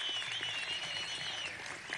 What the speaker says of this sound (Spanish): Un aplauso a estas niñas y niños.